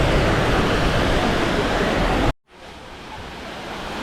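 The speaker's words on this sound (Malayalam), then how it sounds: "അത് ഹന്നാമ എന്ന് പറഞ്ഞ വാട്ടർഫോൾ ഉണ്ട് കാണുന്നത്" Hanuman waterfall near Chikmagalur roaring as a loud, steady broadband rush that cuts off abruptly, followed by a quieter, fainter wash of flowing water building back up.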